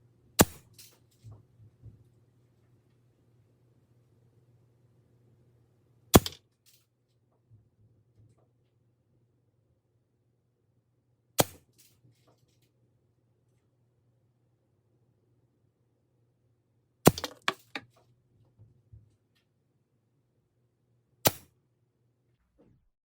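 A Benjamin Discovery air rifle fires five sharp, loud shots at a 10-yard target, spaced several seconds apart, each a crisp crack over a faint steady low hum.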